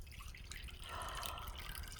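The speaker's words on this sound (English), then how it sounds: "he pours his warm water into the bath." Warm water pours and splashes into a bath, a steady close trickle and splash running for about two seconds with no talking over it.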